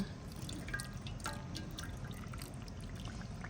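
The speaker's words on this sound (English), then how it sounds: "we're just going to put some of the pickling brine in over top" Pickling brine poured into glass jars of garden vegetables, a soft steady trickle and drip of liquid running at close range with no talking.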